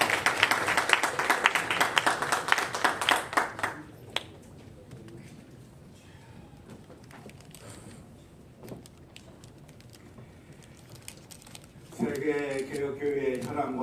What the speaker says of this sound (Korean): 나오실 때 박수로 크게 환영해